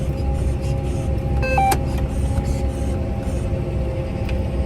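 A John Deere tractor's engine drones steadily as the cultivator is lowered into the field, with a brief whining hydraulic or mechanical sound near the start over the constant cab rumble.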